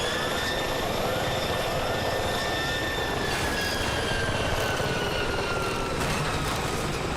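Helicopter engine in the video game Battlefield 6, a steady whining turbine hum with rotor drone and a few faint transient clatters, continuous and fairly quiet.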